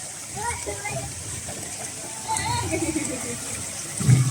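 Water splashing and gushing at the CX Water Park in Ciracas, East Jakarta, steady running-water wash with brief splashes, under adults' and children's voices talking nearby.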